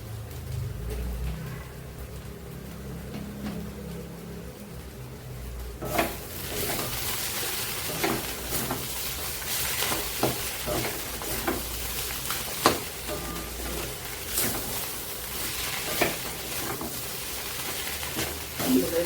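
Shredded cabbage for Bengali ghonto sizzles and crackles in an iron wok, with a quieter start giving way to a loud, sustained fry broken by repeated scrapes and stirring clatters.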